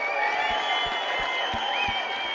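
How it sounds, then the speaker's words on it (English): An outdoor campfire storytelling crowd sends up steady applause and cheering, a dense wash of clapping with scattered whoops, moderately loud and unbroken throughout. "And now this round of applause goes to the volunteers and the teams and the companies that are supporting our public lands."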